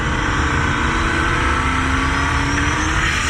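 A turbocharged Ford LTD wagon with an 88mm turbo and a Turbo 400 transmission launches off the two-step at a drag strip. A loud, steady engine roar climbs gradually in pitch and continues without a break.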